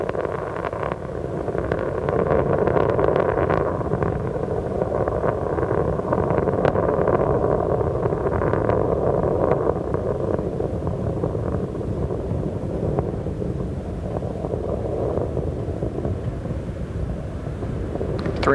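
The three main engines of Space Shuttle Columbia during launch ascent on STS-87 in 1997, heard as a sustained, heavy roar with a crackling, rumbling texture that stays loud and unbroken throughout.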